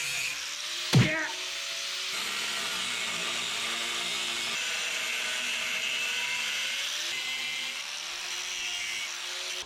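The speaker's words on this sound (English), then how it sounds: "You can notch that out just with a cutoff wheel." Cutoff wheel notching metal during a hitch and flatbed build on a 1963 International Loadstar truck; a steady, loud grinding whine runs almost the whole time after a sharp knock near the start.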